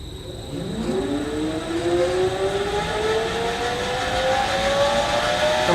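With no load on it, an electric motor run by an ATV31 variable speed drive ramps up toward 60 Hz. It makes a smooth, rising whine that climbs steadily in pitch over several seconds, at constant loudness and without talk.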